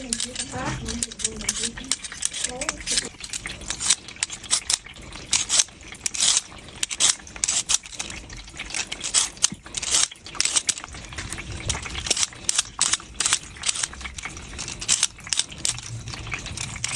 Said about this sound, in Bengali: আলুগুলো কুটে নিচ্ছি